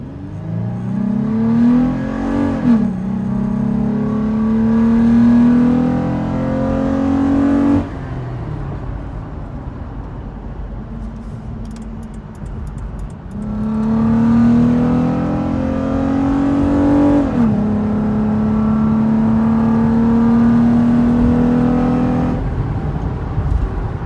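A car engine fitted with a TRD air filter accelerates twice through rising revs with gear changes, a loud, close intake and engine drone that climbs, dips and climbs again, with a quieter cruising hum between the pulls.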